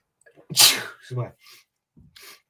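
A single sharp sneeze bursts out near the start, followed by a few quiet, brief vocal sounds and breaths.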